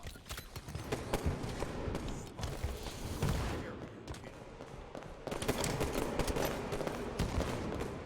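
Video game gunfire crackles through the scene, with repeated shots and short bursts over a busy mix of mechanical clatter and movement noise, while faint voices sit low underneath.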